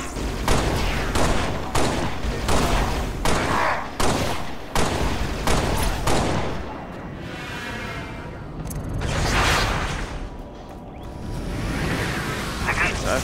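Gunfire in a shooter game, with a run of sharp, evenly spaced shots in the first half over dense game noise. The shots then give way to a softer rushing wash.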